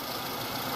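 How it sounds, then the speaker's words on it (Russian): Steady idle of a 2014 Nissan Almera G15's 1.6-litre 16-valve K4M engine, heard close up as an even, unbroken mechanical hum with no talking. "Работа двигателя на холостом ходу."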